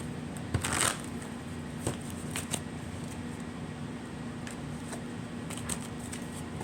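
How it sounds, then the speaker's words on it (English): A deck of oracle cards is shuffled close by in a quiet room, giving a soft papery riffle near the start and then lighter irregular flicks and slides throughout, with no talk. "I'm just going to also pull another set of oracle cards."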